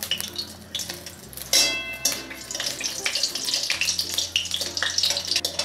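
Dried red chillies hit hot mustard oil in a pan while a Bengali spinach curry is cooked, giving a close, continuous hissing sizzle with a few faint clinks of utensils.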